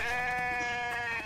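A sheep in the video game The Infected gives a single sustained, nasal bleat, loud and near, with no speech.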